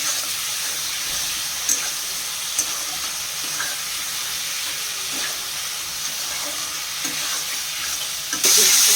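Boiled potatoes and sugar sauté with cooked-down tomato and spices in a pan, a steady close sizzle with scattered scraping stirs throughout, a brief louder hiss near the end.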